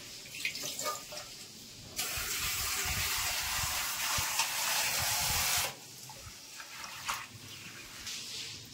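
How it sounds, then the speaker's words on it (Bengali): Soaked shiuli (night jasmine) leaves are rinsed under running tap water, a steady close splashing rush that swells for several seconds in the middle, with quieter handling and trickling before and after. "পাতাগুলো ভিজিয়ে রেখেছি, এবার 1-2 বার ধুয়ে নেব।"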